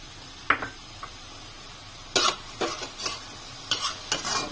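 Egg frying with bitter gourd (ampalaya) in a pan, a low steady sizzle with a string of sharp scraping and clinking hits from a utensil, close up and without any talking.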